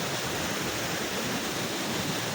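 Kempty Falls near Mussoorie pours in a steady, even roar of falling water during heavy rain, heard at a moderate level with no voices.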